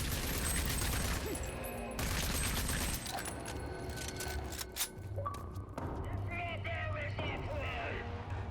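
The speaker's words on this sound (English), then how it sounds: "just hold down the trigger for 2 full clips" An assault rifle in Rage 2 fires continuously in long, dense bursts, with rapid overlapping gunshots and mechanical clatter running almost without pause across the clip.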